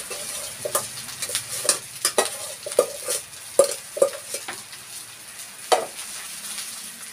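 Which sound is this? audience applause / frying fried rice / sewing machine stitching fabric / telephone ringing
frying fried rice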